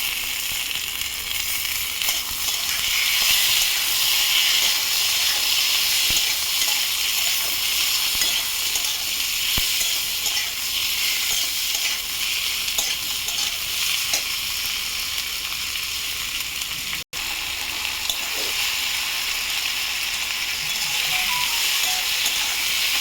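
A continuous hissing sizzle of tomato frying in a pan, steady and fairly loud, with faint scraping from stirring and a brief dropout partway through.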